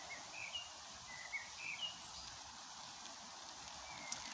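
Faint birdsong outdoors, a few short chirps and whistles over a quiet hiss of ambient background.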